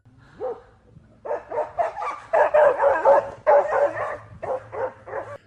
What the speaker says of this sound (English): The dog's scared barks and the wolf's haunting howls made a mysterious sound in the quiet woods.